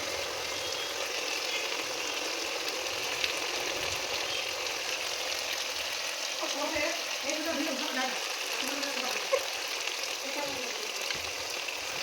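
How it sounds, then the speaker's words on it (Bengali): Hot water goes into a pan of frying jackfruit curry, setting off a steady close sizzle with bubbling and stirring, while a voice talks faintly in the background. "গরম জলগুলো দিয়ে দিলাম"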